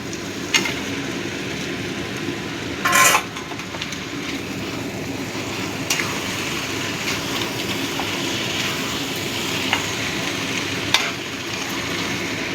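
Potatoes stirred into mutton mince curry frying in a pan: a steady low sizzle runs throughout, broken by a few sharp scraping clinks of the spoon against the pan, one louder rattle near the start.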